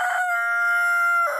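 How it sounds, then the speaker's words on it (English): A single rooster crows, loud and close, one drawn-out tonal cock-a-doodle-doo filling the whole short moment with no other sound. "He would fade into thin air at the rooster's first crow"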